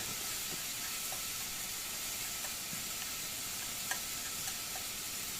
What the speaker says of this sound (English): After add the green chilies, just saute for